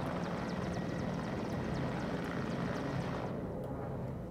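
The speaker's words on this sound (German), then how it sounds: "Hubschrauber." A helicopter in the military strategy game WARNO gives off a steady, fairly faint whirring rotor and engine drone that continues unbroken on its own for a few seconds.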